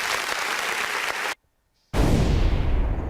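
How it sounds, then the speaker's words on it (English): A dense applause sound effect in Second Life fills the clip, cuts to a brief silence, then resumes just as loud and steady. "You have the applause."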